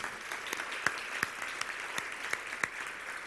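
Church congregation clapping after a prayer, a quiet, distant wash of many hands with a few sharper individual claps standing out at irregular intervals.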